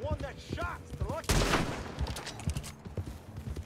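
Gunfire rings out in Red Dead Redemption 2 online as a player shoots at a horse, a loud sharp burst near the middle after rising whistle-like tones, followed by scattered shots and hoofbeats.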